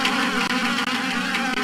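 Wasps buzzing at an attic window in the video game Harvester, a dense, continuous, loud insect drone that stays steady throughout, with no voices.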